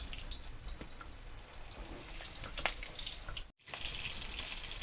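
Cut pointed gourd pieces hit hot oil in a pan for a Bengali potato and potol dish, giving a steady broadband sizzle and crackle with a brief break near the end before the frying hiss resumes.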